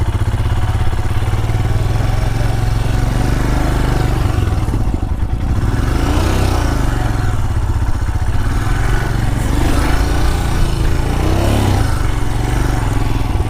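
A Royal Enfield Himalayan motorcycle engine runs steadily and loud while off-roading on a muddy surface, with a constant close rumble and slight revving swells throughout.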